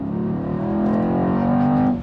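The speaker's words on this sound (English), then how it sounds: "this one here, which happens to be the most hardcore, is a 4 liter twin turbo V8" A 2018 Mercedes-AMG E63 S with a 4-litre twin-turbo V8 engine runs with a brief, loud, steady droning tone that rises a little in pitch, close by and with no talk over it.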